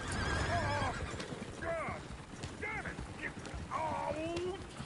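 A horse whinnies and neighs several times in rising, falling calls, with clip-clop hoof sounds and rough background noise beneath, moderately close.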